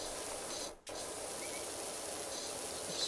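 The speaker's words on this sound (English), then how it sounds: "It's really satisfying getting all of this like moss off and mildew." Pressure washer spraying grime off surfaces in the PowerWash Simulator game, a loud continuous hiss that cuts out briefly near the start, then resumes steadily to the end.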